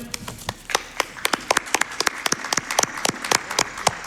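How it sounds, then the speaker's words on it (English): A short burst of applause from a small group at the Awesome Games Done Quick speedrun marathon, scattered claps rising into a lively patter, no talking. "Can we have an applause for the donation?"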